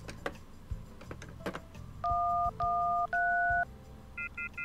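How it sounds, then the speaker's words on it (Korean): An old telephone in a video game's foggy countryside inn is dialed with crisp button tones, three long dual-tone beeps and then a quick set of short high pips, close and clear over faint background rumble. "주인은 여기저기에 전화를 시도했지만 전화는 먹통이었다."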